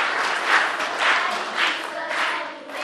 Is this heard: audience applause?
yes